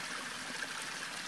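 A small stream at a trail water source about eight to nine inches deep runs close by, a steady bright rushing trickle with no voices.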